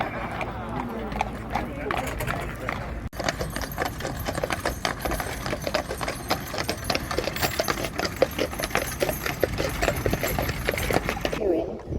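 Hooves of a Welsh Section D horse pulling an exercise vehicle at a London harness horse parade, steady clip-clop under continuous announcer speech and outdoor crowd noise.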